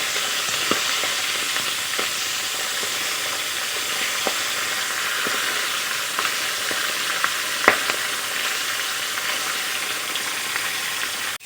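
Fish heads fry in oil in a pan and are flipped over, making a loud continuous crackling sizzle with occasional spatula taps and one sharper knock near the end.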